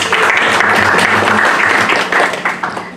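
Loud, sustained applause from the audience at an academic workshop on criminal procedure law, dense clapping filling the room before thinning and tapering off near the end.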